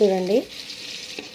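Tomatoes frying in a pan for Kadapa-style semolina upma, a steady soft sizzle that continues after a brief spoken word at the start.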